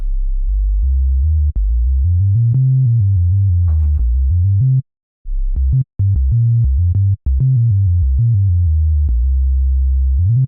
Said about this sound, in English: And that sub bass sounds like this.